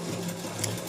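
A sewing machine stitches a churidar with a steady, close, continuous whirring hum, loud and uninterrupted through the short stretch.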